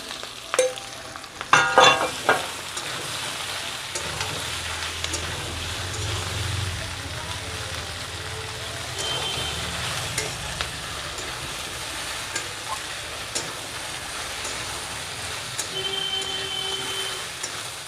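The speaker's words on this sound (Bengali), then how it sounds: "পেঁয়াজটা হালকা ভাজা হয়ে গেছে, দিয়ে দেবো কচুরমুখী সেদ্ধ করে রাখা।" Boiled taro tumbles into onions frying in a pan for a prawn curry, starting with a few loud clattering knocks, then a long steady sizzle and stirring, with faint talk in the background.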